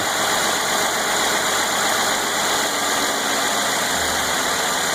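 A car engine idles with a constant low hum and steady mechanical drone, its revs slowing as the engine computer lowers the RPM, running evenly close by with no voices.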